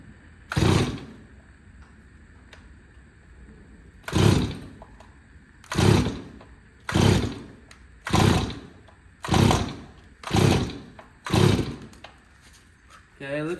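A Stihl 024 Wood Boss chainsaw on full choke is pull-started again and again, each yank a short rasping burst about a second apart, with eight or so attempts and no lasting run.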